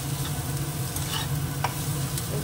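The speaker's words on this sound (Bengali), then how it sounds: "মিশিয়ে দিই নুনটা, নাহলে সব জায়গাতে সব আলুতে ঢুকবে না।" Potatoes frying in oil as salt is stirred through them, a constant close sizzle with scraping spatula strokes and a few sharper clicks against the pan.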